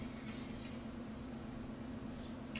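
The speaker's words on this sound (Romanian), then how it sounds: "Deja am luat apă la bord aici, uite." Water filling a trailer in the Farming Simulator video game, a steady, quiet, bubbling liquid rush with a constant low hum, continuous and even throughout.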